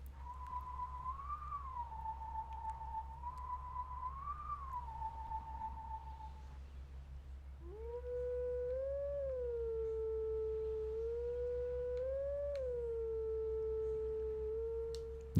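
Wolf Link howls at a Howling Stone in Zelda: Twilight Princess: a pure, wavering, whistle-like howl, then a pause, then a second, lower howl that rises and falls, both held long over a low hum.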